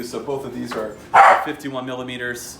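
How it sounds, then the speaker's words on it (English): A pet dog lets out a short, sharp bark partway through, close and loud, while someone talks about skateboard wheels before and after it. "Excuse my dog."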